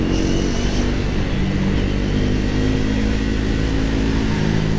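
Triumph Speed 400 motorcycle engine pulling hard in fourth gear, a steady loud droning roar with sustained harmonic hum and wind, continuous and close without a break.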